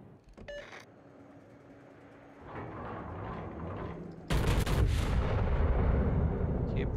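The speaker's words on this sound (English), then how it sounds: "Concentrate fire on the enemy warship." Naval guns fire at an enemy warship in a video game, with a low rumble building before a sudden heavy blast that roars and rolls on loudly to the end. No one speaks.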